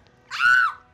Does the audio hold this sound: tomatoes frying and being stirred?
no